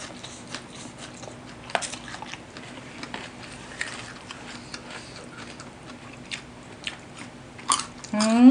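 Close, crisp crunches and clicks come from chewing crunchy blanched vegetables with spicy squid papaya salad, irregular bites scattered over a quiet background, with a brief voice-like tone near the end.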